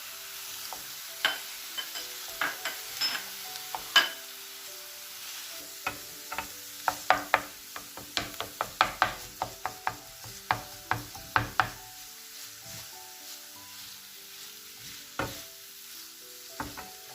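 Minced meat and onions fry in a pan, a soft steady sizzle broken by scattered clinks and scrapes of stirring that bunch together in the middle and thin out toward the end, with no voices.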